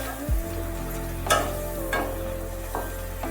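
Small mourola fish frying in a pan while turmeric and salt are stirred in, a steady low sizzle with a few scraping stirs of the utensil.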